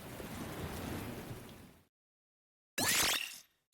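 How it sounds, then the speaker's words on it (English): Heavy rain pours down in a video game, a dense steady wash that cuts off abruptly, falls silent, then returns as a bright, loud splashing burst before fading. "melted away into the sound of the rain pouring down"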